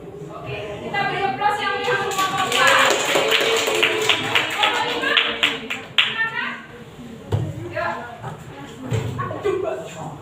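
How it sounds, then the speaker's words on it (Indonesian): A primary school class in a teaching-practice lesson claps together in a rhythmic pattern, sharp unified claps in groups, close and loud, mixed with children's chanting voices. "kita beri aplaus yang semua kompak"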